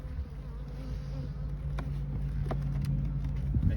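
A dense, continuous drone of many bees buzzing around a hive outdoors, moderately loud and steady, with individual insects flitting past closer at moments.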